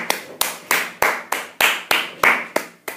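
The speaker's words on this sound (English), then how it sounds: "No, it deserves a clap." Single person clapping hands slowly and evenly, about ten sharp, close claps at a regular rhythm, each with a short ringing tail, no talk.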